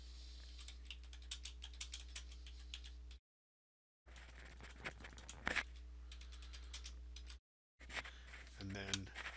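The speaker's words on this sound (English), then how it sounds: "So I'm going to type in a note." Quick, light keystrokes on a computer keyboard come in close bursts, broken by two short silent gaps, over a steady low background hum.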